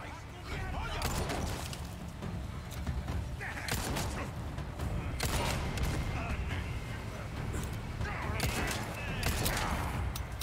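Repeated gunfire bursts from enemies in the Resident Evil 4 remake ring out over a steady low game rumble, with several sharp cracks spread across the stretch.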